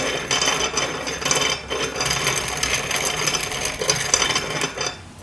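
A sharpening stone grinds the gap of a piston ring in slow, repeated rasping strokes, close and steady with brief pauses between passes.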